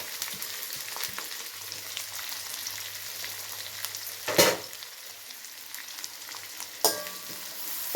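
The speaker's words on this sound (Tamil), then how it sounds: "வெங்காயம், கருவேப்பிலை, இந்த பச்சை மிளகாய் எல்லாத்தையும் ஒன்றா போட்டுக்கலாம்" Onions, curry leaves and green chillies fry in hot oil for a chicken and potato kuzhambu, giving a steady hiss and sizzle with two brief louder stirring flares, and no one speaking.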